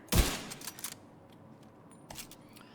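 A single sharp sniper rifle shot from The Division 2 cracks loudly at the start and trails off into brief echoing clatter and a few faint mechanical clicks, with no voices.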